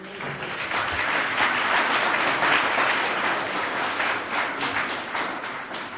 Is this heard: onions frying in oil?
no